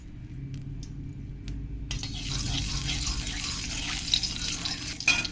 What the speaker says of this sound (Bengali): তেলটাকে একটু ভালো করে নাড়িয়ে চাড়িয়ে নিতে হবে